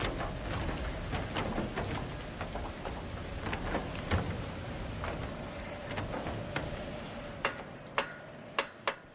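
Steady rain falls in the second week of August, with hills snow-capped nearby. The downpour is a constant hiss, and a few sharp, loud ticks and drips land near the end.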